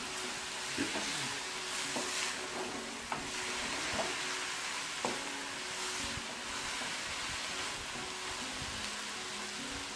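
A vegetable filling for spring rolls and samosas, seasoned with soy sauce and red chili sauce, sizzles steadily in a hot pan, with a few faint scrapes and stirring knocks over a constant hiss.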